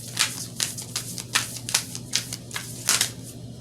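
Tarot cards being shuffled by hand, a run of about eight crisp riffling bursts at an uneven rhythm, close and fairly quiet over a steady low hum.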